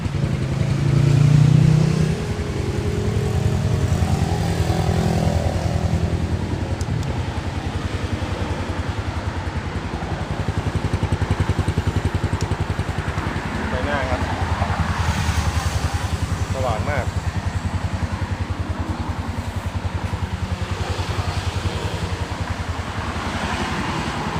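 A stock Honda Phantom 200 motorcycle engine runs steadily and loudly nearby, a continuous low rumble with slight rises, while someone talks over it at times.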